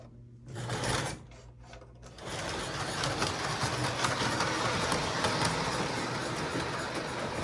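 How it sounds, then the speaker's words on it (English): A Thomas model train from an old collection runs along its track in a basement, a steady close mechanical whir and rattle starting after a few short bursts and continuing evenly, with no voices. "And we have a Thomas train."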